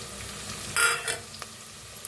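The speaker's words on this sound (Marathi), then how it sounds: "आता लसूण मिरची शेंगदाणा बारीक करून घेतलं होतं बघा, ते बी भाजून घेऊया।" Crushed garlic, green chili and peanuts roasting in a pan for masale bhaat, a soft sizzle with one louder stirring scrape and a few lighter taps afterward.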